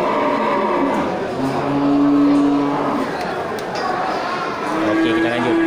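Large local cattle low at a livestock market, two or three drawn-out moos heard close by over a busy, noisy crowd with talking.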